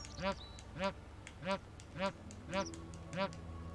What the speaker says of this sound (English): That's a goose!